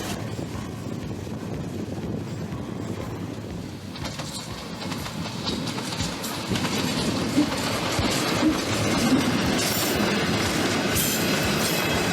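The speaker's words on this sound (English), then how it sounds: "The Gulflander motor train operates once a week." The Gulflander rail motor train near Normanton rumbles along the tracks with steady clattering wheels and a low roar, wind buffeting the microphone throughout.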